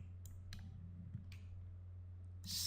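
A computer mouse clicks while modeling in Autodesk Maya 2017, with three or four sharp, close clicks spaced irregularly over a steady low electrical hum and a slightly louder burst at the end.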